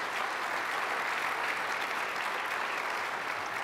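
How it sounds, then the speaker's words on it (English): Steady applause from a conference audience thanking a keynote panel on operating MySQL at scale, dense and continuous throughout with no voices. "If everybody could give our panelists a round of applause."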